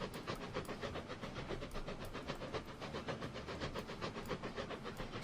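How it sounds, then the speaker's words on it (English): Train running in the video game Transport Fever 2, a steady rolling rumble with faint rhythmic clicks and hiss, continuous and moderately quiet throughout. "Keep an eye on our little train here."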